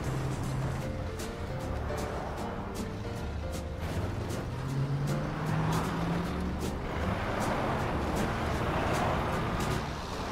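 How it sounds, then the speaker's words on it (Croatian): Cartoon road traffic rolls along steadily, a continuous broadband rumble of cars and trucks with brief sharp clicks and a low tonal engine drone, moderately loud throughout with no voices. "Promet se ponovno kreće."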